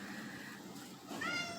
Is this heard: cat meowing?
yes